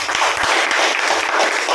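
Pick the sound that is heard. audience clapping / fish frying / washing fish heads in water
audience clapping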